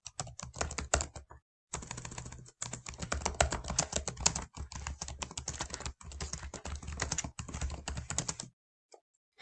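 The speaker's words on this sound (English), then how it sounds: "So really fast, I'm just going to type in" Rapid typing on a computer keyboard while entering text in a document, dense runs of close, crisp key clicks broken by a short pause near the start, then stopping toward the end.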